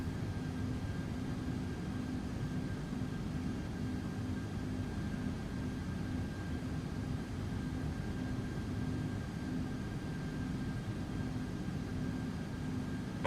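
Steady, unbroken roar of an Aerosoft Airbus A330 airliner's engines in Microsoft Flight Simulator, a dense droning hum with a faint high whine that holds at an even level throughout.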